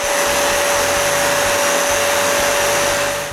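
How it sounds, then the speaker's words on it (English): A linear sander works over wooden garage door panels in a shop, giving a loud, continuous high-pitched whirring drone that runs steadily the whole time with no talking. "So I sand everything with the linear sander."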